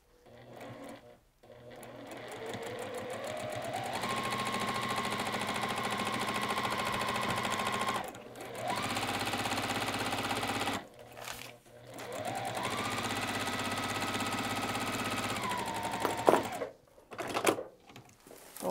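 A sewing machine stitches a quarter-inch seam on a T-shirt quilt in long, steady, close humming runs that speed up, pause and restart, with brief talk in between.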